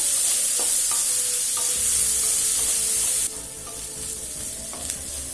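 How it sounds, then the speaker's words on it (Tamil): Onions sautéing in a pan for vegetable chutney, a bright continuous sizzle with regular light stirring scrapes, the hiss dropping noticeably partway through, no talking. "இப்போ வெங்காயம் நல்லா வதங்கிடுச்சுங்க"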